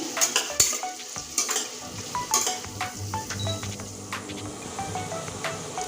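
Onions fry in a pan with a salt pinch added, a continuous sizzle broken by repeated scraping strokes and light metallic clinks from a spatula, close and loud with no talking.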